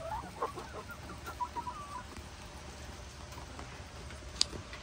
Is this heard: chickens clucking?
yes